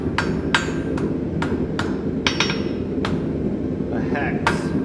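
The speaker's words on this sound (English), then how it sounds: "Now I'm going to hit it on the diamond and make it" A blacksmith's hammer strikes hot steel on an anvil, forging a square taper into a hex for a J hook, about ten sharp ringing blows in an uneven rhythm over a steady background hum.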